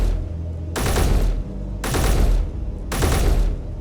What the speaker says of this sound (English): Shouldn't be too many more shots because I'm hitting it.